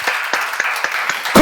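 A church congregation at a Korean seminar claps in a brisk, even rhythm, about six sharp claps in quick succession ending in a louder flurry, with no talking over them.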